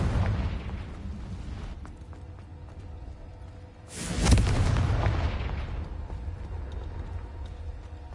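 A Confringo blasting spell bursts in a Hogwarts video game, one heavy booming explosion midway that rises sharply and decays into rumble, set among other loud continuous in-game combat noise.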